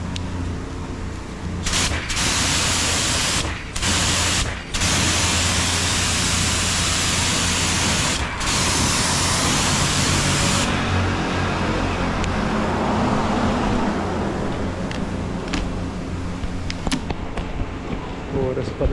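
A high-pressure water sprayer at a self-service car wash blasts a loud, steady hiss for about ten seconds, cutting out briefly several times, then fading into softer spraying and splashing with a low hum underneath.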